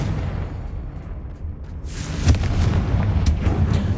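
A Confringo spell in the Hogwarts Legacy video game goes off as a low rumbling boom that swells after a quiet start, followed by a sharp crack and crackling debris, loud and close.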